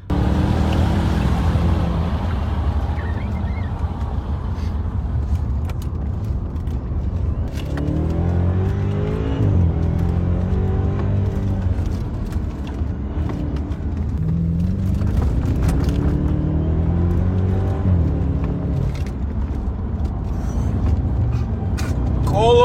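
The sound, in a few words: BMW 650i car driving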